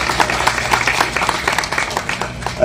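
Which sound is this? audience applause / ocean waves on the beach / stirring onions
audience applause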